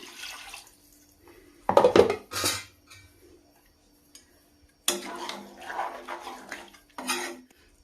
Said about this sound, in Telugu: ఇంకొన్ని ½ గ్లాస్ వేస్తున్నానండి వాటర్